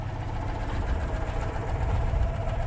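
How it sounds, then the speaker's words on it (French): Citroën 2CV engine idling to charge its batteries at a desert bivouac in northern Mauritania, a steady low rumbling putter running continuously, fairly close, with no talking. "vous entendez que le moteur de la 2 chevaux tourne encore pour charger un peu les batteries"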